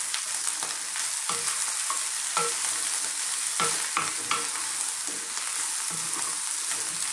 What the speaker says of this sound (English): At this point, I'm going to add in our mushrooms